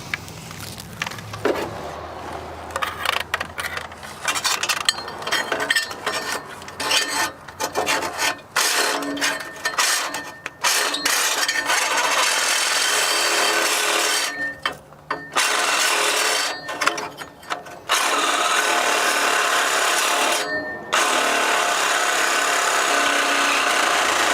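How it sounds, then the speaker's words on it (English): A reciprocating saw rasps steadily through the exhaust pipe of an abandoned 1974 Ford Bronco for a long stretch, loud and close, with brief pauses and restarts between cutting bursts. "do you want to grab me a Sawzall where I can go ahead and cut that exhaust"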